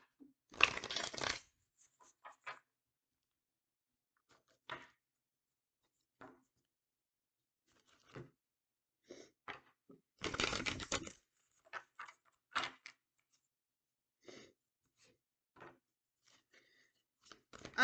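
Oracle cards being shuffled and one drawn from the deck: two short bursts of riffling, then scattered soft taps, flicks and card handling, close by and quiet with long silent gaps.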